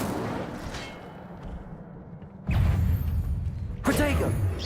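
An Incendio fire spell bursts out in the Hogwarts Legacy game, a loud whooshing roar of flame that surges midway and swells again near the end amid ongoing combat noise.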